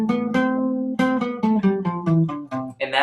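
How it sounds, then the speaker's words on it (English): A guitar plays a one-octave major scale, fingered from the sixth string: about eight single plucked notes rising one after another in a steady rhythm, close and clear with no talking. "It's just 1 octave, so on the guitar it would sound like this."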